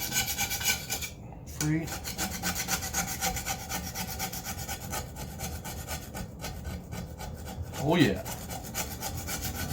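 A hand scraper rasps rust off a cast iron skillet in quick, rhythmic strokes close up, continuing steadily, with a short spoken remark in between.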